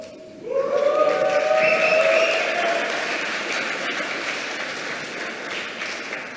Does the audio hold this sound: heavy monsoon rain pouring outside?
no